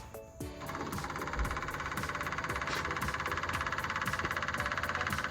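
An inline electric fuel pump on a rubber isolator mount runs steadily after the key is turned on, a continuous mechanical buzz with a fast, even pulsing that starts after a brief quieter moment and holds at a constant level throughout.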